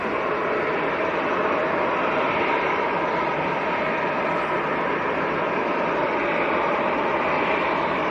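TUI airliners taxiing on the far side of Manchester Airport, a steady loud broadband engine roar and rush that holds constant throughout with no break.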